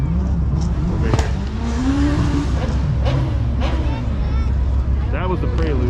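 A white Honda Prelude drives past at a Cars and Coffee meet, its engine revving and shifting pitch up close, with other car noise and people talking over it.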